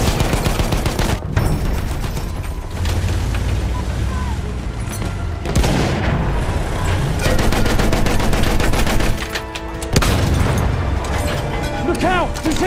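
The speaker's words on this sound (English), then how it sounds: "Look out! Machine gun!" Machine gun fire rattles in Battlefield 1 on a Galicia battlefield amid explosions and booms, loud dense bursts with brief pauses, while voices shout over the combat.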